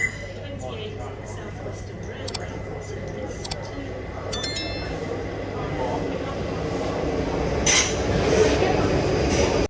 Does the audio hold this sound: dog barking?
no